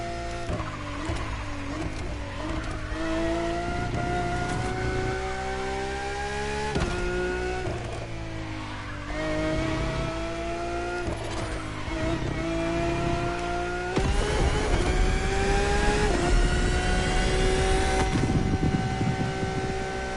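Sports car engine in The Crew Motorfest, loud and close, holding sustained revs with rising and falling pitch through repeated gear changes, growing harsher and more aggressive toward the end, with no talking over it.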